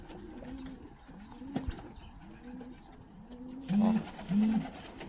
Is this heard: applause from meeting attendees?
no